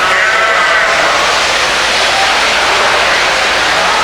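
Ewes, including Tunis sheep, are penned at a livestock show. Their bleating comes as a loud, dense mass of overlapping calls that keeps going the whole time, with no gaps and no voices.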